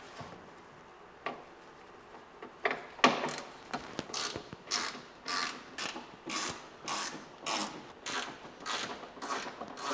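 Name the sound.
ratchet removing wheel well bolts on Porsche 911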